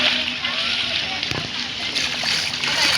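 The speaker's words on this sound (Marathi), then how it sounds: "रस्त्याला पाणी एवढं आहे." Floodwater pooled on a road after heavy rain sloshes and splashes in a continuous wash, with a voice talking over it.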